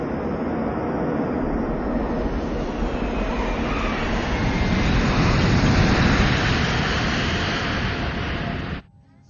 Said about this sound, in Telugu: మన ఫ్లైట్ని గోవాలో ఎమర్జెన్సీ ల్యాండింగ్ చేస్తున్నాం